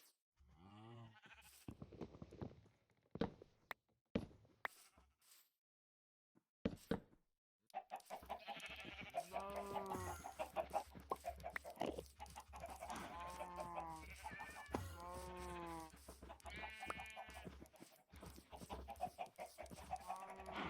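Chickens clucking in the Minecraft video game, with other farm animal calls such as sheep or goat bleats mixed in, sounding in a steady, dense stretch after a few sparse calls.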